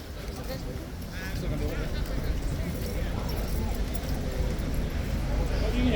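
Horse hooves clip-clopping on the ground near tourists at the King's Guard, a steady clatter under busy outdoor crowd chatter and background noise.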